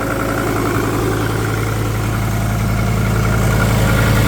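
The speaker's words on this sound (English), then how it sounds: "It runs perfect. This is a cold start, by the way, and there's not enough coolant." A custom-built Fiat car engine idles steadily after a cold start, low on coolant, a loud, close, even rumble with a constant pulsing throb and no talk.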